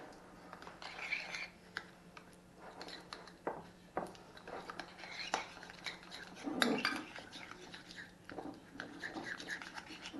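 Carrot cake batter with agave syrup being mixed in a Moulinex i-Companion Touch XL, giving soft scraping, clinking and knocking of the bowl and utensil in irregular bursts at close range.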